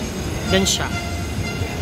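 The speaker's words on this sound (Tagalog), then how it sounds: "Ito na guys, LRT na tayo." An LRT light rail train runs with a steady rumble and rolling rail noise throughout, close and continuous, while a person speaks briefly over it.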